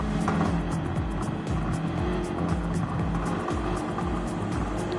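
Race cars lap the High Speed Ring in Gran Turismo 7, a continuous loud engine drone with shifting pitch and faint tire noise, steady throughout with no talk.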